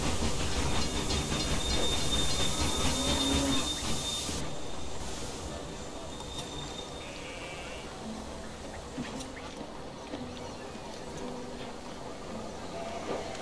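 Trains running in the railway video game Railway Empire, a continuous rumbling rail sound with hiss and faint high tones, loud at first and then settling to a steadier, slightly quieter roll.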